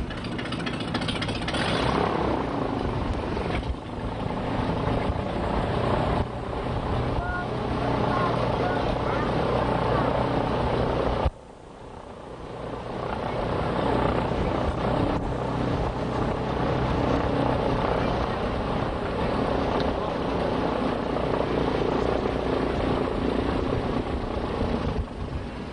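An airboat with a bathtub-size hull cruises through Alligator Alley, its engine and propeller droning loudly and steadily, with one brief dip midway.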